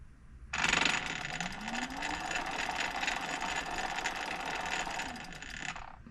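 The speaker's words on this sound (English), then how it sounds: "hopefully my voltage and everything will allow the motor to go" A BBSHD mid-drive e-bike motor spins up under VESC controller motor detection, giving a loud, steady mechanical whirring with a rising tone that holds for several seconds and then cuts off, with no talk over it.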